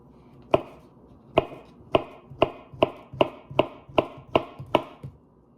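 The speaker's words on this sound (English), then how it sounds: "we're just going to be taking them and chopping them up" A knife chops ripe bananas on a cutting board for banana pudding, landing nine sharp, evenly spaced thuds over about five seconds, close and clear with no talking.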